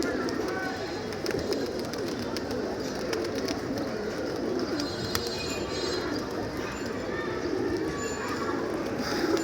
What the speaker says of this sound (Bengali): কবুতর ছাড়ার সাথে সাথে হাইট নিয়ে নিছিল, আবার নামছে